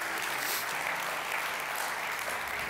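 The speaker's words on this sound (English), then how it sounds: "And while we're applauding, let's applaud Naomi's house" An audience claps at a live event, a continuous wash of even applause heard at a moderate distance with no talking over it.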